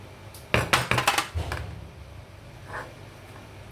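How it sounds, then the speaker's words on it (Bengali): Dough for chocolate border biscuits is worked by hand in a bowl, with butter and Dalda being mixed in, giving a few close clinks and scraping bumps early on, then a quieter soft rubbing. "আমি এখন এটাকে এইভাবে মিশিয়ে নেব"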